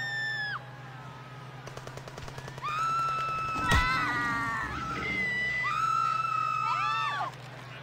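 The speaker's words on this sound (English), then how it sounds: "It's a lot of screaming" Video game Predator Simulator with rapid gunfire bursts and a sharp impact, followed by several overlapping high-pitched screams that rise and fall, loud and continuous over a low background hum.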